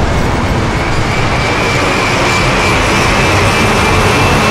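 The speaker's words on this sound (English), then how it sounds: "So we went and captured lots of fast vehicles, some planes, some cars." Recorded fast vehicles, a plane or car passing at speed, captured as source material for a sniper game's kill cam: a loud, steady broadband roar with a faint high whine, continuous throughout.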